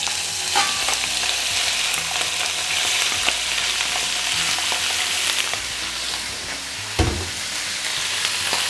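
Pieces of washed forest kebab meat sizzle and fry in olive oil inside a pot, a dense continuous crackle and hiss close up with occasional louder pops and a brief clatter.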